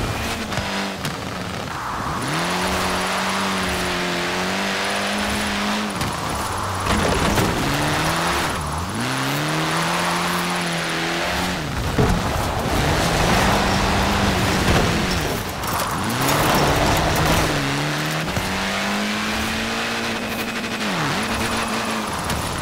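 Hoonigan Ford Focus RS RX drifting in Forza Horizon 4, its engine revving and dropping in repeated loud sweeps with steady tire noise through sustained powerslides, no speech over it.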